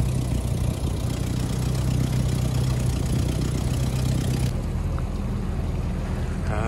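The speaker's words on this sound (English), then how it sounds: "First test of the jet boat." A jet boat engine drones steadily at a constant pitch close by, with a strong low hum and continuous broadband noise; the tone shifts slightly near the end.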